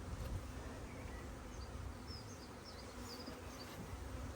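Honeybees hum in a dense, steady drone around an open hive, a soft continuous buzz with no voices.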